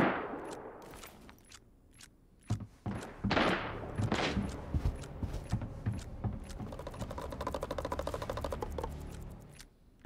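Gunfire from the Arena Breakout shooter game crackles in sharp bursts: a few scattered loud shots, then a long run of rapid automatic fire at moderate distance, with a final loud crack at the end.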